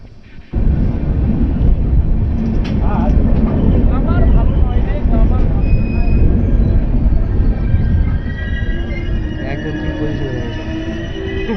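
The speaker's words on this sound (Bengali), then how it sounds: "যে ট্রেনটা বোর্ডিং করেছি সেই ট্রেনটা হচ্ছে শিয়ালদা বালুরঘাট এক্সপ্রেস" The Sealdah Balurghat Express coming to a stop, a loud low rumble and rolling rattle with high squeals and screeches of brakes, the noise easing off toward the end while people talk nearby.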